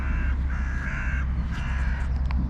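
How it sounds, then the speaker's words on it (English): Several crows caw repeatedly from scattered spots at moderate distance, their harsh calls overlapping over a steady outdoor rumble. "Here's our crows. They're kind of all over the place, scattered."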